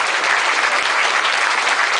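Audience at a motivational lecture clapping together, a dense, steady wash of applause that stays loud and even from start to finish with no voices over it.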